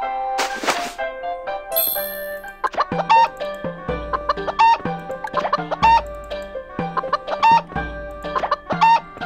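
Chickens clucking in Harvest Moon: Light of Hope, repeated bright game-style clucks in a rhythmic pattern with chimes and soft thunks, loud and close, no speech.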